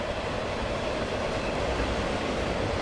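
A freight train passes nearby, producing a steady, loud, continuous rumble and rattle with no pauses and no talk.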